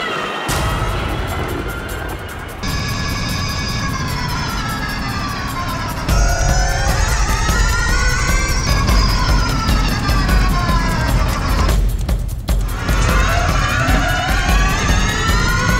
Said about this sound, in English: now we've got the car on track doing it in AI